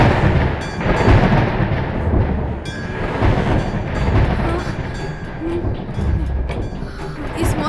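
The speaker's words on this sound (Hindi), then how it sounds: "इस मौसम में बिजली और तूफान, अरे ये सब क्या हो रहा है?" A thunder and lightning storm rumbles in a heavy, continuous roar, loud and close, with rolling low surges that rise and fall throughout.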